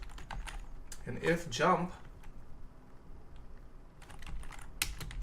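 Typing on a computer keyboard while coding a jump action in a Unity tutorial, a run of quick clicky keystrokes before and after a man's brief speech, close and fairly faint.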